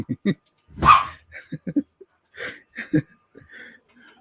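A pet dog whimpers and gives short yips and barks while stuck between a table, mixed with someone speaking in bursts nearby at close range indoors.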